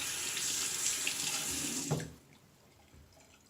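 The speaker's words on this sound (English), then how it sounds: "Put that under the cold tap." Cold water pours from a tap over an alum block in a bathroom sink, a close steady splashing rush that cuts off abruptly partway through, leaving quiet room tone.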